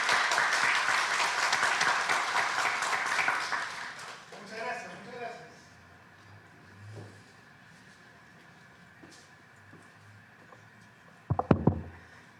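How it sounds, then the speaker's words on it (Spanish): Applause from an audience welcoming a guest speaker at a conference in Peru's Congress, a broad wash of clapping that fades after about four seconds, followed by quiet room noise and a few close knocks or handling thumps near the end. "Con ustedes, el doctor Lucas Gersi Murillo, lo recibimos con fuertes aplausos."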